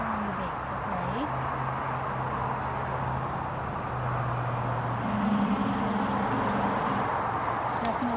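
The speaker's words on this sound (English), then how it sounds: "Definitely hear that highway traffic out here." Steady broadband roar of highway traffic drifting in outdoors beside a building, a continuous distant wash with a low engine hum running underneath throughout.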